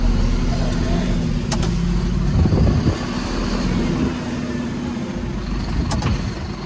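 A truck engine idles in a steady low rumble, close and continuous, with a slight swell partway through and faint background activity.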